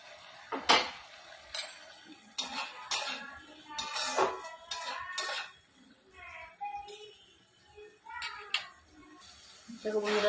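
A lid is lifted off a cooking pot of simmering spiced water, with a series of close metallic clinks and knocks scattered through the stretch while a person talks.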